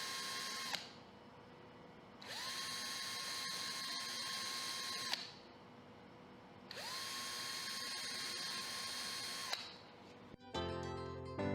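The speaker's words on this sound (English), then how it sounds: "The holes are carefully drilled in both the sealant and the rear of the spacer in a single step" A power drill fitted with a step drill whines in three sustained bursts with brief pauses between, drilling through sealant into the rear of a window spacer, a high steady tone close by, ending with a short mechanical clatter.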